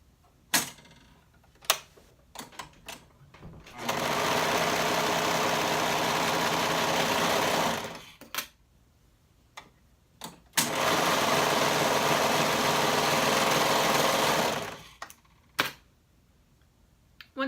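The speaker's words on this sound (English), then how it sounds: "attach it as you're running it through the serger or your sewing machine" A sewing machine or serger stitches bodice seams in two steady stretches of several seconds each, with clicks and handling taps before, between and after.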